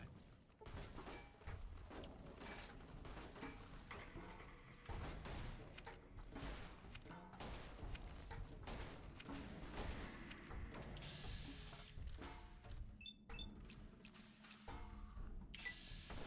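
Sustained gunfire rings out during a firefight in Fallout: New Vegas, dense bursts of shots and impacts layered over game music and effects, loud and continuous throughout with a few sharp crashes near the end.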